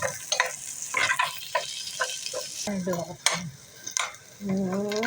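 Vegetables sauté with pork, garlic, onions and soy sauce in a pan for a Kapampangan ginisang gulay, sizzling close-up under rhythmic stirring scrapes, with a voice briefly heard toward the end.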